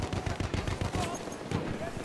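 Rapid bursts of video game gunfire, a quick, steady rhythm of close shots like machine-gun fire, with voices talking over the shooting.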